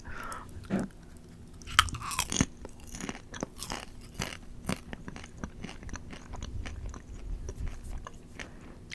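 Close, crisp crunching and biting of a crunchy snack, with steady chewing over a quiet room hum and no talk.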